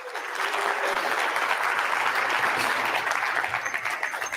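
An audience applauds steadily throughout, a dense even wash of clapping that holds at one level from start to finish with no voices standing out.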